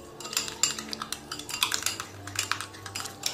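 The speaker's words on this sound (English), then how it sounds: "So stir it until the alpha arbutin is completely dissolved." A utensil stirs alpha arbutin solution in a container, making rapid, irregular clinks and scrapes against the sides, close and clear, with no talk.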